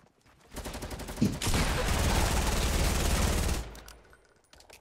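Gunfire rattles in a video game as a rapid, sustained burst of automatic shots lasting about three seconds, loud and close, with a few scattered single shots around it.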